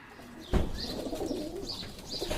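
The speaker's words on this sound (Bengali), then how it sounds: "হঠাৎ কোথা থেকে উড়ে এলো এক সাদা রঙের পায়রা।" A white pigeon coos in a few soft, low repeated calls, moderately near, with a sharp knock or flutter of wings at the start and a few faint higher chirps overhead.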